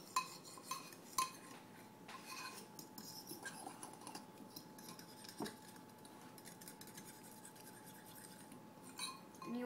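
Bread pudding mixture stirred in a bowl, light repeated clinks and scrapes of a utensil against the dish, faint and close, no voices.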